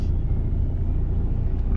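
A long-haul truck pulls away, a steady low engine rumble droning close and loud with no clear change over the short stretch.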